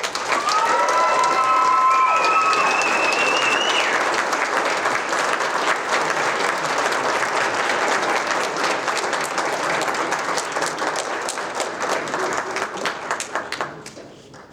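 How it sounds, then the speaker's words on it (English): Audience applause fills a hall at a student leadership awards ceremony, loud sustained clapping with some cheers early on, then slowly tapering off toward the end. "Please give a big round of applause for our Shared Values Award winner, Faith Morris."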